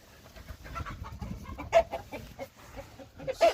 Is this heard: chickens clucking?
yes